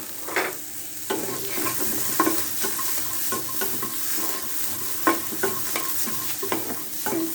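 Thickly sliced onions and whole garlic cloves frying in a pan, a constant close sizzle with repeated clattering spatula strokes at an uneven rhythm, no voices.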